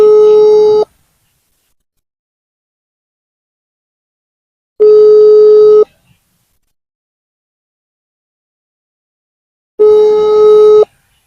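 A phone call rings out on the line with a ringback tone: three long, loud tone bursts of about a second each, separated by roughly four seconds of silence.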